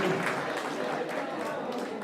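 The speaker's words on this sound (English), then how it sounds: "Please, big round of applause for Seema and Rishi" Audience applause at a Hindu New Year celebration in Saratoga, honoring Seema and Rishi, a steady, dense patter of many hands clapping from a crowd, sustained throughout at even loudness.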